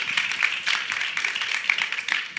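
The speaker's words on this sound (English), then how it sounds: "So if you can join me in giving them all a round of applause and your undivided attention" Audience applause at a women's forum gala, a steady wash of many hands clapping at once, dense and continuous with no voices standing out.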